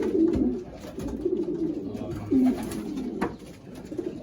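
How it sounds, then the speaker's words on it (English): Pigeons in a breeding loft coo continuously, with overlapping low throaty calls from several birds close by and a faint hint of a voice in the background. "There's a lot of birds."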